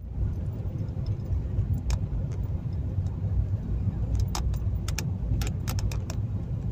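Car driving along a remote country road near Alston, a steady low engine and road rumble throughout with faint rattles and clicks from inside the cabin, no voices.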